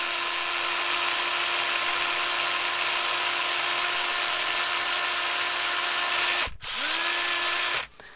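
A power drill bores a 2.5mm hole in an electronics enclosure with a loud, steady whine that runs close and constant, then cuts off twice briefly near the end.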